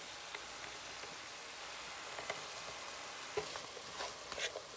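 Chopped yellow and green onions sizzle in a pan in a steady, even hiss, with faint stirring taps and scrapes over it, close by but soft.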